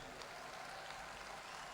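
Brief audience applause at an RCM program event in Bhilwara, a steady dense wash of clapping filling the hall for a couple of seconds without any speech over it.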